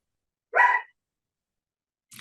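A dog gives a single sharp bark indoors during a board meeting, followed by silence and the start of another faint sound at the end.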